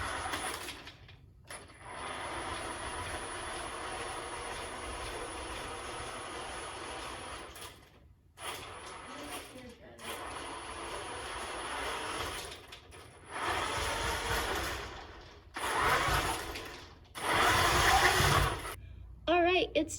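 A swerve-drive robot runs on the ground for a test, its motors giving a loud, steady mechanical whir broken by short pauses and louder bursts as it starts, stops and changes direction.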